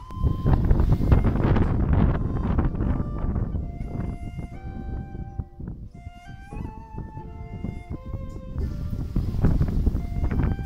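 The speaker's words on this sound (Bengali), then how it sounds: "প্রচণ্ড ঝড় শুরু হয়ে গেছে" Strong storm wind buffets the microphone in loud, continuous gusts, rumbling and roaring, easing briefly midway before rising again, with faint tonal sounds in the background.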